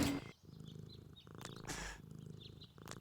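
A cat in the video game Deponia, a kitty stuck up a tree, gives a soft purring, rumbling murmur repeated in short pulses, fairly close and steady, with a few brief brighter bursts between.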